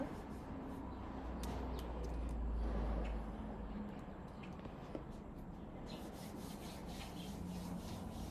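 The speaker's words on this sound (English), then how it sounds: "let's stand up and rub those hands together" Hands rubbed briskly together during a standing chi exercise produce a soft, continuous swishing friction, faint and close.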